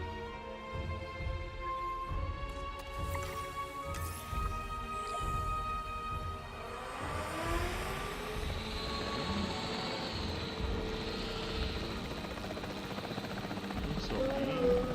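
Capture team helicopter in the video game Jurassic Park Evolution 3, a rotor whir that swells louder over the clip, mixed with game music and effects.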